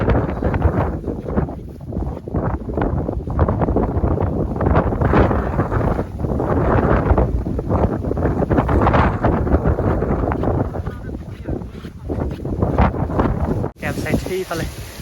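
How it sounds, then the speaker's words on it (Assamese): Strong wind blows across the bamboo-covered Dzukou Valley, buffeting the microphone in loud, continuous gusts. "বতাহৰ সুৰসুৰণি গম পাইছে আপোনালোকে"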